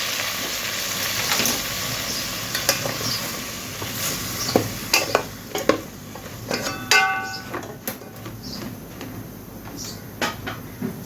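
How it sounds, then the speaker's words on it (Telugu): Eggplant pieces fry in a pan for vangaya pappu, with a steady sizzle underneath and scattered clinks and scrapes of a utensil moving them around; no one speaks. "ఇప్పుడు వీటిని శుభ్రంగా వేపుకోవాలి."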